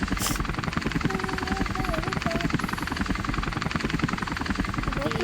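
Steady rotor chop from a helicopter in a police chase video game, a dense rhythmic thumping that runs throughout with faint voices and game tones mixed in.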